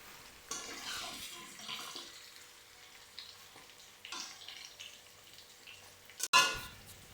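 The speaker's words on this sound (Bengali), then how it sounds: "মাংস কষানো হয়ে গেছে, তো এবার পানি দিচ্ছি।" Water poured into a pot of cooking chicken curry made with country chicken and potatoes, a splashy rush building from about half a second and running in waves, closing with a sharp sizzling burst near the end.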